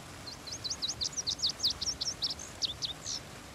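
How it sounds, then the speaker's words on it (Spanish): Small birds singing in the Project Zomboid video game, a quick run of bright, rapid chirps and tweets over soft ambient hiss, fairly faint and with no talking. "Ahí se escuchan los pajaritos cantando."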